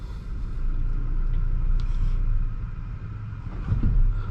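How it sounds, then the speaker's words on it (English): A 2024 Audi Q3 45 TFSI Premium Plus engine restarting through its start-stop system, heard as a low rumbling idle inside the cabin that swells slightly toward the end. "let's use our start-stop system. See how smooth this goes."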